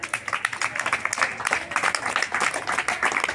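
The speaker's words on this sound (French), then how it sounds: "Merci, applaudissez Noura." An audience applauding a child, scattered but lively clapping from a modest crowd, with individual hand claps audible in an uneven, pulsing rhythm, moderately close and without speech.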